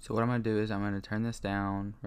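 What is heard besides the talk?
No distinct noise like a dog, phone or traffic.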